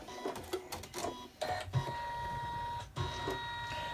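An embroidery machine stitches a gingerbread boy's eyebrows in black thread, giving bursts of rapid mechanical whirring and clicking with short pauses and a steady motor hum in between, close and fairly quiet, with no talk.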